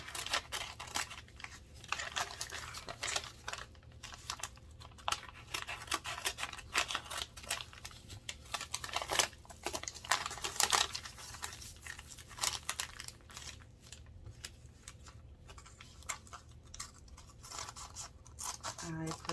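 Scissors snip paper for a junk journal cover in a long run of close, crisp cuts and crinkles, with speech in places.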